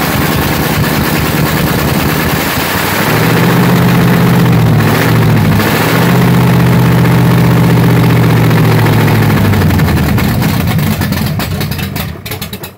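A 1967 Corvette engine with a solid-lifter camshaft and a faulty accelerator pump cranks, catches and idles roughly with a loud, close rumble, then stumbles and dies out.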